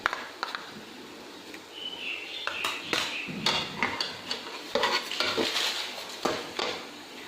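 Sugar and cream cooking over low flame in a pan for coconut barfi, with clinking spoon-on-pan stirring and scraping, close and fairly busy, light sizzle underneath.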